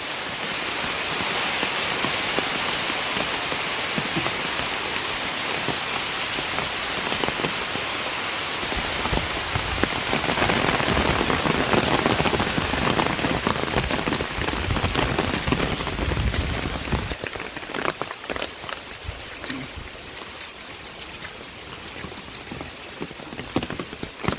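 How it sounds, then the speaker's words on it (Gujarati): Dense, steady patter of rain drumming close overhead on an umbrella in a farm field, continuous throughout and easing slightly toward the end. "વરસાદ ચાલુ થઈ ગયો છે ફ્રેન્ડ"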